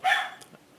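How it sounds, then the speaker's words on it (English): One short, faint dog bark sounds in a quiet room, followed by a softer trailing yelp. "I'm sorry about my dogs barking."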